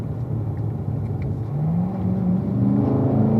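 A race car engine on track while braking and downshifting to third gear: a loud, continuous close-up drone whose pitch climbs in short steps as the gears drop, with no talk.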